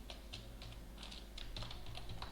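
C++ code being typed on a computer keyboard, rapid light keystrokes in uneven bursts, close but quiet, over a low steady hum.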